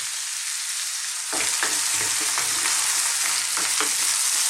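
Potatoes for an aloo chana masala curry fry over high heat in a pan, with a steady loud sizzle; stirring begins partway through and adds repeated scraping strokes against the pan.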